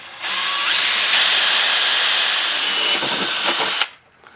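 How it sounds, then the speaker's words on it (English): A power drill spins a hole saw through scooter body panels to open holes for gauges, a loud steady high-pitched whine lasting several seconds before cutting off abruptly. "we're gonna come in here with a hole saw, cut some holes for our gauges"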